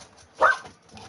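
A single short dog bark rings out at moderate distance in a home, one sharp yelp-like burst standing above a quiet background.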